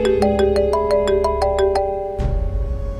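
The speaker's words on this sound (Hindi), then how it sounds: "तब्रेज़, फोन उठाओ मेरा।" A mobile phone ringtone plays a repeating melodic chime of short evenly spaced tones, close and clear, then stops abruptly as a low rumble takes over.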